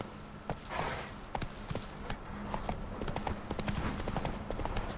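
Roach, a horse in The Witcher video game, walks with a steady clip-clop of hooves on hard ground, close and clear, set against a soft game ambience.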